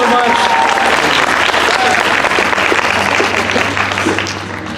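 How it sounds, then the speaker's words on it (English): An audience at a magic show applauds loudly and continuously, with many hands clapping close by and crowd noise mixed in, fading slightly at the end. "Give him a big round of applause"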